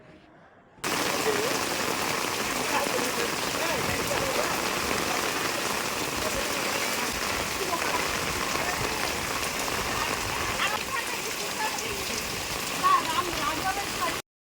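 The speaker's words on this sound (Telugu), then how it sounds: "ఈ సందులో నుంచి మరీ ఎక్కువ వస్తున్నాయండి వాటర్." Heavy rain pours steadily while floodwater rushes through a narrow village lane beside a house, a dense continuous roar that stays loud and unbroken throughout.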